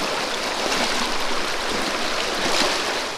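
A strong river current rushes steadily at a campsite on the Enchanted River in Tanay, Rizal, a dense, continuous hiss of flowing water with no voices.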